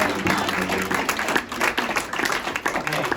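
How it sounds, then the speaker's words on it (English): An audience at a staff program for educators applauds in a dense, steady wash of clapping that fills the whole moment, with some voices mixed in. "give me a nice round of applause."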